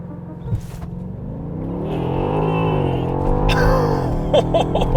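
A 2021 BMW X6M Competition with a twin-turbo 4.4-liter V8 launches hard using launch control, its engine note rising through the revs in a loud, close surge, followed by a brief gear-change shift, with a voice faintly under it.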